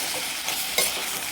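Mushrooms fry in a hot pan with a dense, steady sizzle and one brief louder crackle near the end, heard close up and alone.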